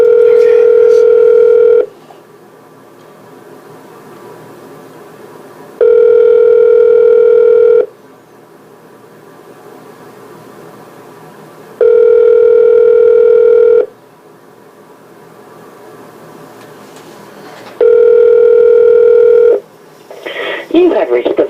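A steady telephone ringback tone repeats on a held call, four long two-second bursts spaced by about four seconds of silence, loud and clean, with a voice prompt starting at the end.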